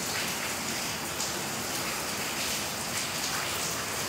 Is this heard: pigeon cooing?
no